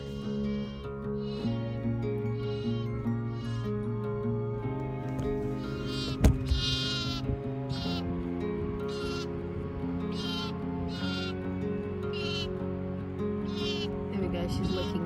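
Sheep bleating on an Australian sheep farm, a ewe with her newborn lamb, repeated bleats rising over a steady harmonic background with someone talking nearby.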